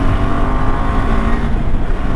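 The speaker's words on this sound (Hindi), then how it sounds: "और फ्री थ्रॉटल जा रहा है और थोड़ी साइलेंट हो गई है बाइक।" A KTM 390 Adventure motorcycle engine running on high-octane premium petrol gives a loud, steady, close-up drone that holds without a break for the whole stretch.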